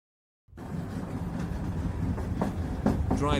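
A Union Pacific train rolls along in stormy weather, a steady, dense rumble that starts abruptly and grows slightly louder, with faint rhythmic clicking and rushing wind-like noise layered on top.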